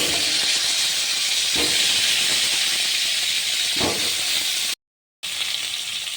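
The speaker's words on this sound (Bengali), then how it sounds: "কড়াই তেল গরম হয়ে গেছে, তো আমি এবারে আলুগুলো ভেজে দেব।" Potatoes fry in hot oil in a wok, giving a steady, loud, close sizzle and hiss that never lets up, with a couple of brief crackling bursts and a short silent gap near the end.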